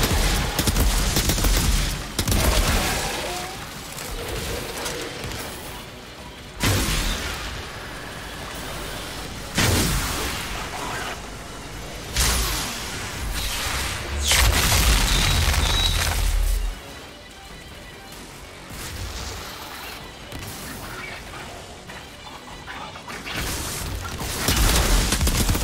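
Heavy gun fire in the game Outriders, loud booming bursts and rapid volleys repeating in clusters across the span, with short lulls between barrages.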